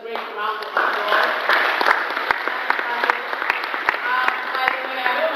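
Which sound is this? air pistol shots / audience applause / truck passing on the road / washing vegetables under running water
audience applause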